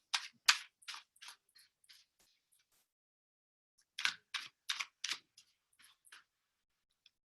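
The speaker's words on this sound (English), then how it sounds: "now I am shuffling the Sex Magic Tarot" A deck of Sex Magic Tarot cards shuffled close by in quiet, two bursts of quick crisp riffling snaps separated by a short silence, no voices.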